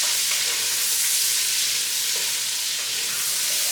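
Onions, celery and pepper sautéing with ham in a pot over medium heat, giving a loud, close, steady frying sizzle with a bright hiss throughout and no talk.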